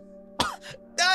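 A man chokes out a few harsh coughs after swallowing seawater, two short rough bursts followed by a strained voiced heave, all close over a faint steady hum.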